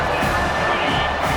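Stadium crowd roaring during a College Football 25 game, Texas Tech at TCU, a loud, sustained wash of cheering noise with no break, heard briefly ahead of a key third down.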